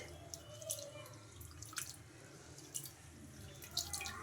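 Quiet water sloshing and dripping in a bowl, with soft splashes and trickles as semolina is rinsed by hand, faint and close.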